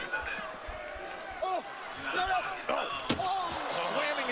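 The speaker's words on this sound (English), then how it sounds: "Slamming his head into our announce desk." At a WWE match a wrestler's head slams into the announce desk, landing as a sharp impact over a crowd and continuous commentary talk.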